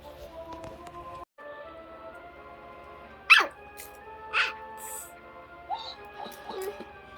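A dog barks in a home, a few short separate barks near the middle and end, heard over a soft steady tonal background.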